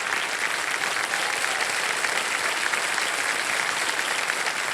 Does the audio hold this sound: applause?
yes